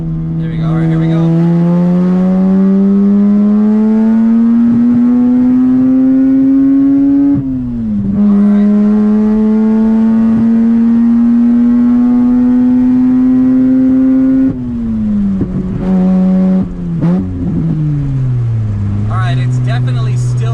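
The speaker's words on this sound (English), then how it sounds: "Definitely still missing, breaking up at high RPM" A Mazda RX-8 rotary engine revs up through the gears, its tone climbing and dropping as it breaks up and misfires at high RPM, loud and close throughout with a couple of brief lifts between pulls.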